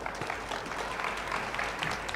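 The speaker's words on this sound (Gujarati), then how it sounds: "જોરદાર તાળીઓથી વધાવીએ" An audience at a birthday gathering with a folk-literature programme claps in a steady, dense wash of applause. It sounds somewhat distant and moderately quiet, with no voices on top.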